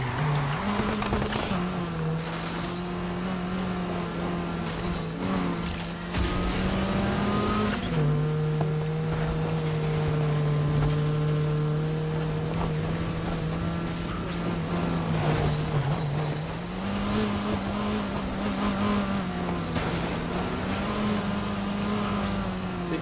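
A car tearing across rough off-road ground in the racing game Need for Speed Heat, its engine a loud steady drone that drops and rises in pitch as it shifts, with faint tire noise and scraping underneath.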